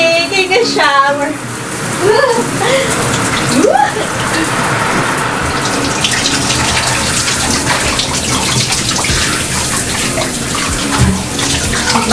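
A shower runs steadily for the whole stretch, a close, dense hiss of spraying water, with a person's voice briefly singing and talking over it at the start.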